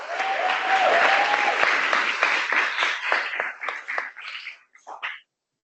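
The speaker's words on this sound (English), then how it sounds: "Let's give Megan a round of applause." Applause at a wage theft and labor justice symposium greets speaker Megan, a full crowd clapping that swells, then thins into scattered individual claps and stops near the end.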